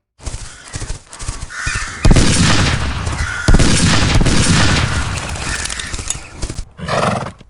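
Horses galloping in a dubbed Western comic-book story, a loud dense rumble of hoofbeats with a whinny-like cry, sustained for several seconds before fading and returning briefly.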